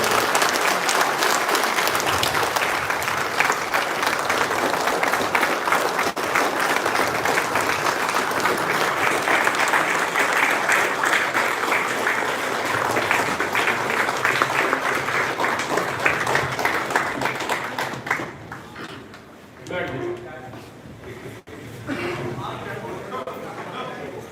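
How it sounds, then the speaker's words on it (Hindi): Loud, sustained applause from an audience welcoming Sunil sir at a felicitation event, a thick wash of clapping lasting about eighteen seconds before fading, followed by people talking. "जोरदार तालियों के साथ स्वागत करें हमारे सुनील सर का"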